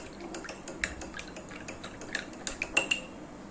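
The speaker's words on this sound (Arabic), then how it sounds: "هنا معايا نص كوبايه اللبن دوبت عليها معلقه العسل جلوكوز، ندوبها كده كويس خالص" A spoon stirs a spoonful of glucose honey into half a cup of milk, giving faint, quiet clinks and taps against the cup in an uneven rhythm, growing a little busier toward the end.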